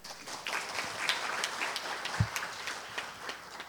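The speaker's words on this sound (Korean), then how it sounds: "큰 박수 부탁드립니다." An indoor audience at a Korean seminar on the senior market gives a short burst of steady, moderately loud applause as a speaker is introduced.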